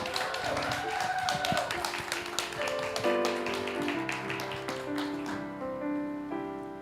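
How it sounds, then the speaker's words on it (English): A live talk-show audience at Center in the Square in Roanoke applauds. The dense clapping is fairly loud at first, then thins and fades over several seconds as music tones carry on underneath. "one more round of applause, please"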